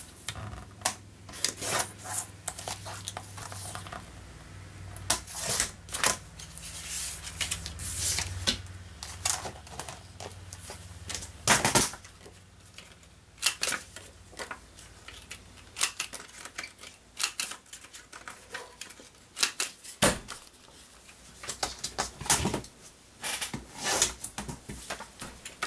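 A paper photo gets trimmed down to 3x4 with a cutter, producing scattered quiet snips, scrapes and rustles in irregular bursts, close and faint.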